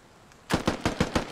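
Rapid automatic gunfire in the military shooter game Squad: after a near-silent moment, about six loud, evenly spaced bursts crack out in quick succession, close and sharp, with no voices.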